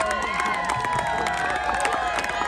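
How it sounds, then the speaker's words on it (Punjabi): Large outdoor crowd at a Punjab masters athletics meet at Mastuana Sahib, a steady roar of cheering and scattered clapping throughout, with voices and shouts mixed in. "ਚਲੋ ਚਲੋ ਕਲੈਪਿੰਗ ਕਰੋ ਬਾਈ ਤਾੜੀਆਂ ਲਾਓ ਤਾੜੀਆਂ"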